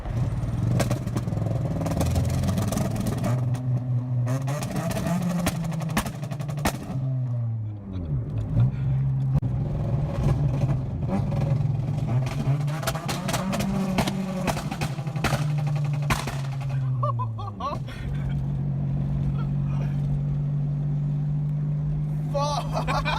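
A Honda car on two-step launch control revs in long, held bursts. The rev-limiter hum is broken by a rapid series of loud, sharp backfire pops, and people talk nearby between the bursts.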